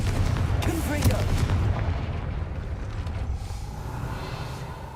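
A Confringo fire spell blasts in Hogwarts Legacy, a loud burst followed by a rumbling, crackling wash that slowly fades over several seconds, with a brief voice cry at the start.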